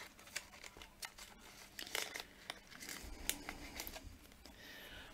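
Packaging around a pair of Kohana embroidery scissors being opened, close and quiet, with scattered sharp crinkles and rustles of paper or plastic in irregular bursts and no talk.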